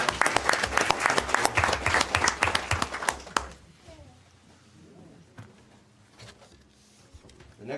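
Audience applause at a city council meeting, loud dense clapping for about three seconds that cuts off abruptly, followed by quieter room noise and faint talk.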